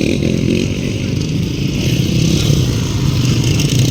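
Motorcycle engine revving loudly during a motocross heat race in Cotabato City, a continuous close buzzing roar with rising and falling pitch throughout.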